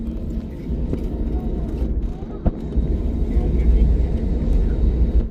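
Airplane engines throttling up for takeoff on a trip to Baroda, a steady low roar that swells louder in the second half, with a brief thump near the middle and people talking over it.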